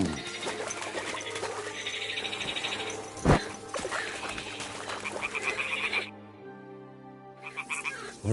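Toads croak in the video game Kingdom Come Deliverance 2, a chorus of repeated raspy croaks with a steady rhythm, moderately loud and close, broken by one sharp knock partway through and a brief lull near the end.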